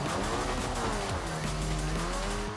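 A Reliant Supervan in Forza Horizon 4 slides on the handbrake, its tyres squealing in long, wavering tones over a steady engine drone, loud and continuous throughout.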